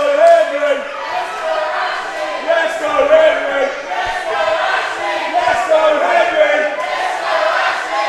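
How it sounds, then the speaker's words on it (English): A wrestling crowd cheers and chants loudly and continuously, many voices rising and falling together with shouted peaks, close and full throughout. "The crowd really coming alive again."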